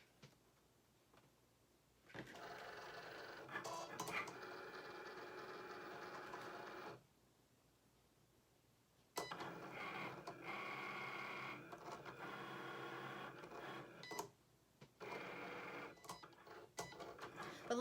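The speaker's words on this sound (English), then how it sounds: "I'm just going to put it into my machine. And the blinking C to cut." Cricut machine cutting glitter vinyl on a mat for a Christmas shirt: a soft motorized whirring with quick ticking moves, running in two long stretches separated by a brief quiet pause.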